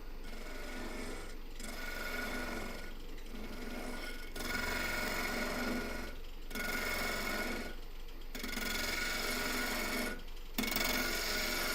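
A maple burl vase being hollowed out on a wood lathe, a steady scraping rasp of the tool on spinning wood in repeated passes with brief pauses between them.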